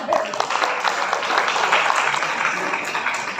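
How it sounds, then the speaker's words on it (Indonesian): An audience at an entrepreneurship training session for people with disabilities in Rembang claps in a steady, dense round that stays level throughout, with some voices mixed in. "tepuk tangan untuk kita semua."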